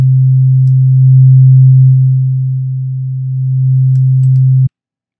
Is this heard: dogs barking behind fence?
no